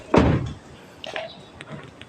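A car door swung shut with one solid thud near the start, followed by quieter handling clicks and knocks in a calm outdoor setting.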